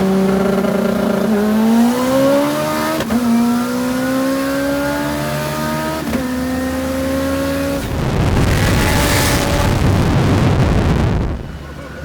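A 1000hp all-wheel-drive Honda accelerating hard from inside the cabin, the engine note climbing through several gear changes with brief dips between shifts, then giving way to a roaring rush of wind and road noise.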